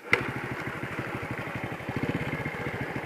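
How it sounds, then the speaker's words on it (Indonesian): An Astrea Grand motorcycle with a dead starter, just kick-started, idles close by with a quick, even chugging putter that holds steady for a few seconds. "Karena starternya mati, jadi harus dikenjot."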